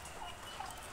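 Faint bird call in the background, a turkey's gobble heard from a distance against steady outdoor noise.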